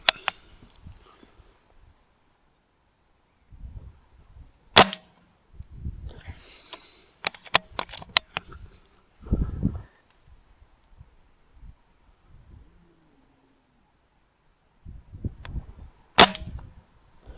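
Shots from a Stoeger XM1 .177 air rifle used for pest control and losing power between shots: a few sharp, separate cracks spaced seconds apart, each followed by quiet handling and rustling outdoors, no talk.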